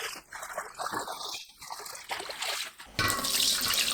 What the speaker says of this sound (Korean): 손질한 열무와 얼갈이를 2번 씻어주세요.